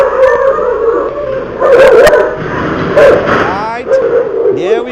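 A dog barks, yips and whimpers loudly while grabbing a man, with people talking and shouting over the commotion throughout.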